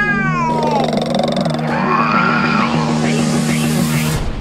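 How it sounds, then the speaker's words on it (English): Animated cat vocalising with purrs and meow-like cries, loud and continuous, layered over a busy cartoon soundtrack with a sustained musical tone and sliding squeals. "Chloe, you're purring. Oh, I wonder what other sounds I could make."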